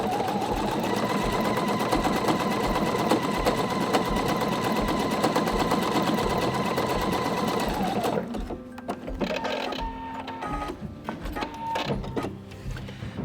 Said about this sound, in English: I'm also going to go in and make my machine sew a little bit faster.